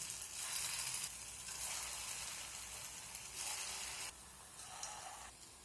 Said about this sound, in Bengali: এখন এগুলো একে একে তেলের মধ্যে দিয়ে দেবো।